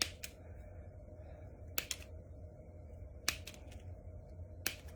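Scissors cutting apart greenery for a craft project, four crisp separate snips spaced about a second and a half apart, close and quiet over a faint steady background hum, with no talk.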